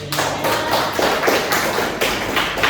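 Steady applause from a lecture audience at a university teaching session, continuous dense clapping with sharper individual claps standing out throughout.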